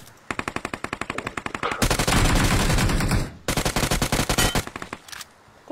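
Loud automatic gunfire in a video game: rapid, evenly spaced machine-gun bursts, a sustained dense volley in the middle, then another fast rattling burst before it cuts off.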